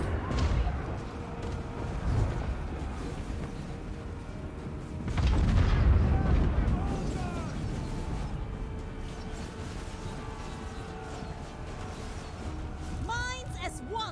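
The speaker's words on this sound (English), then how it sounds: "Ogres get wrecked by the cannons." Cannon artillery booms in a fantasy strategy game battle, with a heavy low thump around the middle amid continuous battle noise, game voice lines and clattering effects throughout.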